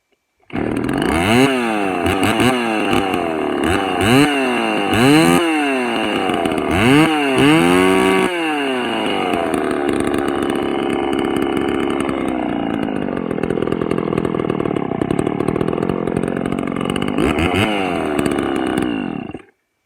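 A Mac 3200 chainsaw, recently modified, starts with several sharp pull-and-fire bursts, then settles into a loud, steady running drone close by, with a final rev near the end.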